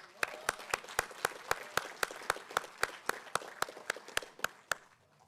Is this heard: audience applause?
yes